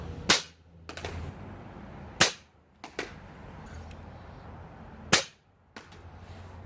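A toy dart blaster fitted with a Sledgefire attachment fires three loud, sharp shots a few seconds apart. Each shot is followed by quieter clacks of the mechanism being primed, with no talking.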